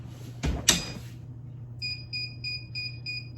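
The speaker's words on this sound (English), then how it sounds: "It's a lot of beeping, but I like that when as soon as it opens, it stops beeping." A Joto 15x15 heat press beeps in a rapid repeating series of bright electronic tones after a mechanical clunk and thud of the press being handled, the beeps continuing steadily and close by.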